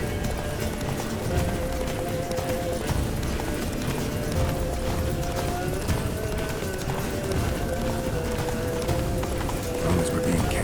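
Roach, the horse in The Witcher 3: Wild Hunt, galloping with a steady stream of hoofbeats under dense game ambience and music, continuous and mid-distance, with faint voices in the mix.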